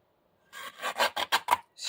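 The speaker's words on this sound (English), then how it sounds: "I am going to take a little cutter and square off the ends." A small cutter trims the ends of fabric in a quick series of close, rasping strokes, five or six short scrapes in a row after a brief silence.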